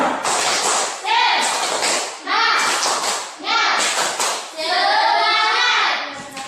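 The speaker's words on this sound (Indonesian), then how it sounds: "Kita tepuk semangat, biar lebih semangat." Schoolchildren in a classroom perform a rhythmic group clapping chant, bursts of sharp hand claps in patterned sets alternating with loud chanted children's voices, repeating in roughly one-second cycles.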